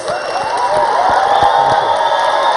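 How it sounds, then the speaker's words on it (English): An audience cheers and whoops loudly with scattered clapping underneath, a bright, continuous roar of excited voices that stays strong throughout. "Let's give a huge round of applause."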